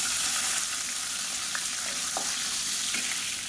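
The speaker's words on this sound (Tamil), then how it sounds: "இப்போ கடுகு சோம்பு புரியுது" Mustard seeds and fennel fry in hot oil with a dense steady sizzle and a few faint pops, close and unbroken, with no talking.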